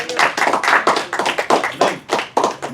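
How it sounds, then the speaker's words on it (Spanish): Rhythmic applause from a church congregation, many hands striking together in quick, strong bursts, close and loud with no talk over it. "Pero un aplauso a Dios"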